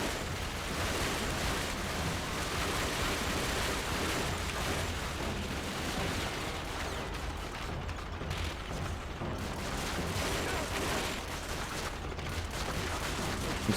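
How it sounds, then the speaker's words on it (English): Dense, continuous bursts of gunfire in Call of Duty: Finest Hour crackle at a moderate distance, rapid and overlapping, with a steady noisy wash underneath and no talking. "I hear a lot of gunfire"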